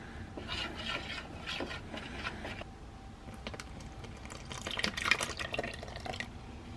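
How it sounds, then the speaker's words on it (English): Honey is stirred and then poured into a flour mixture, giving close, wet scraping and sticky stirring noises followed by soft glugging and dripping as it pours. "stir in the honey and simply pour it into the flour mixture"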